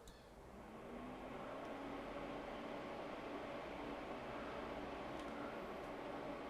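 Corsair ML120 and ML140 magnetic levitation PC fans ramping from 1200 RPM up to full speed in turbo mode, a steady broadband airy whoosh that swells over the first second and then holds loud and constant, with no talk.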